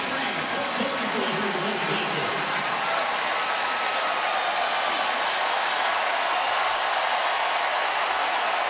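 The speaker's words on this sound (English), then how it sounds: "The crowd comes to its feet here at Clemson" A roaring crowd at a Clemson football stadium during the 2012 Clemson vs Georgia Tech game makes a dense, continuous wash of cheering that stays loud and steady the whole time.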